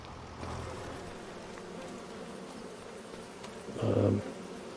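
Bees drone in a steady low buzz around a bee shed on a Farming Simulator 25 farm, swelling louder near the end as one seems to pass close.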